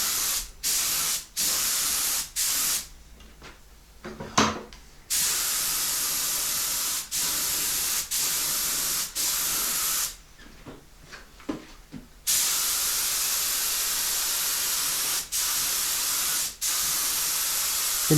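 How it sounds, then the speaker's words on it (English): Short bursts of a spray gun hiss as clear lacquer is sprayed onto a guitar body, each blast lasting about a second, with quieter gaps and faint handling noises between passes. "Do the horns first, and spray around the edge of the body, and then do the flat bits on top."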